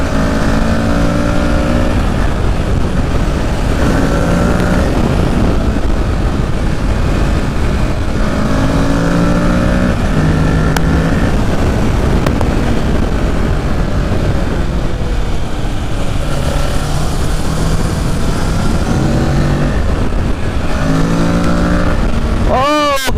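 A Kawasaki Ninja motorcycle engine revs repeatedly on a ride, rising and falling in pitch through several gear changes, loud and close under constant wind noise, with occasional voices.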